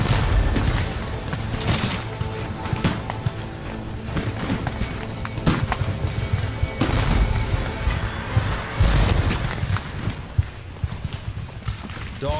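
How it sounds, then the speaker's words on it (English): Rolling Civil War musket volleys from a Gettysburg battle, 1863, crackle in dense overlapping bursts with heavy booms, loud and continuous throughout, layered over a low rumbling din. "the crash of Union muskets breaks out on our right"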